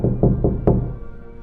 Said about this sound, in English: the knocking came again.